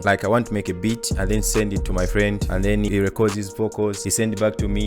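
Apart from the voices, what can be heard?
No everyday noise stands out behind the speech.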